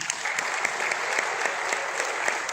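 An audience at a holistic health talk breaks into applause: a brief, steady burst of many hands clapping, with a few sharper individual claps standing out near the front.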